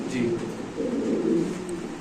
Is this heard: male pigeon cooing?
yes